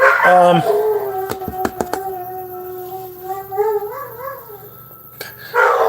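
A dog lets out a long, wavering howl, bothered by a noisy clock, close and loud with a few sharp clicks and knocks during the cry.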